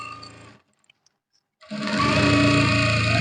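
A sewing machine sews a straight seam on the fabric of a Yoruba fila cap. A short burst of stitching is followed by a pause of near silence, then a longer, steady, close whirring run.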